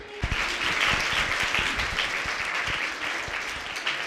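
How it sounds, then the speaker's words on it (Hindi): Classroom applause welcoming new sixth-grade students at a girls' intercollege, a dense burst of many hands clapping that starts abruptly and holds steady and close throughout. "इनका स्वागत किया जा रहा है तालियों के साथ"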